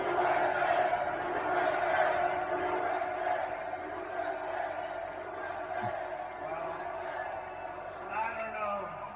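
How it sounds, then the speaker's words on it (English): Large crowd at a Trump rally in Minnesota, a distant, sustained roar of cheering and shouting with a faint chant-like swell, and speech over it. "Look at the crowd."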